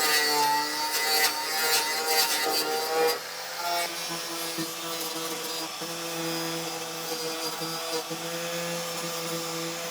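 A power tool grinds paint off a truck's metal battery box, a loud, close, steady whir with harsh scraping that drops to a lower, smoother drone partway through.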